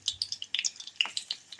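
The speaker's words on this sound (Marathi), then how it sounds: "एका कढईमध्ये तेल घालून आता मी याला जिरा मोहरीची फोडणी" Cumin and mustard seeds with garlic tempering in hot oil in a kadhai, giving a close run of sharp, irregular crackling pops over a soft sizzle, with no talk.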